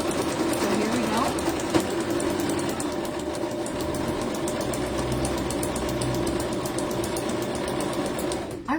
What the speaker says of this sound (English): I really stepped down hard on that sewing machine and that pedal.